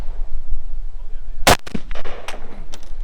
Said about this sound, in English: you had to shoot from the offhand shoulder, and things go a bit slower here